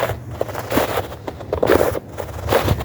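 Footsteps crunch and sink into fresh snow on a sunny day after snowfall, a series of close, uneven crunching compressions with no talking.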